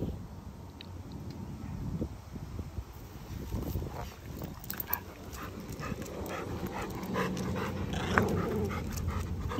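A dog panting close by in a home, rapid breathy huffs with occasional whimpers over a low background hum.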